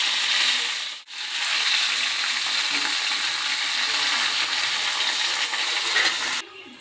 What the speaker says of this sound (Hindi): उसके बाद जाएगा कड़ी पत्ता